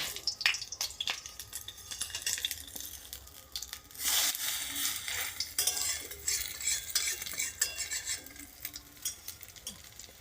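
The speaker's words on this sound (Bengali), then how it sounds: "অল্প আঁচে আস্তে আস্তে ভাজতে হবে।" Potato-stuffed bread chops fry slowly over low heat in a wok, with soft crackling sizzle broken by frequent clinks and scrapes of a utensil against the pan, close and fairly quiet.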